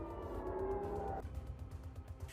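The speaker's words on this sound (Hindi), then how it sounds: "इजरायल में हर वक्त अलर्ट का सायरन बज रहा है" An air raid alert siren wails in Israel, a faint rising tone heard in the distance over dense, noisy background rumble before it cuts off abruptly.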